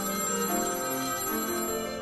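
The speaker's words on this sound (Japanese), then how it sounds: "電話？ こんな時に。" A telephone rings continuously with a dense, sustained electronic trill, loud and steady throughout, with no speech over it.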